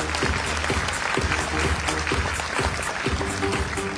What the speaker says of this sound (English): Please do give them a big, big round of applause.